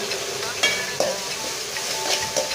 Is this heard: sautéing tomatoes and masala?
yes